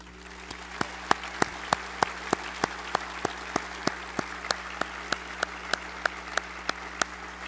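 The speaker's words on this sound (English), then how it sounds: "Let's give them one more round of applause." Applause from a graduation audience at a college salute to graduates: crisp, evenly spaced claps ring out close and loud in a steady beat over a faint background hum, with no talking.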